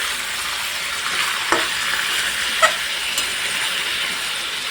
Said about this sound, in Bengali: চিকেন আর পেঁয়াজ দিয়ে সুন্দর করে একসঙ্গে একটু ভেজে নেবো